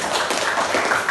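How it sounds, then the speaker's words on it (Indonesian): A classroom of students claps together in sustained, dense applause for about a second, loud and close with no pauses. "Oke, baik, berikan tepuk tangan."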